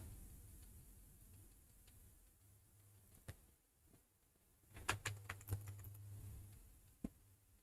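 Keys on a computer keyboard tapped while writing a code comment in a PHP file, quiet scattered clicks at first, then a brief, louder cluster of keystrokes near the end, with no talking.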